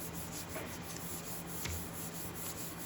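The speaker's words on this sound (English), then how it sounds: "Give it a good rub." Paper rubbed firmly by hand over a paint-covered gel plate, a close, continuous dry scratchy friction with a faint rhythmic back-and-forth, with no talking.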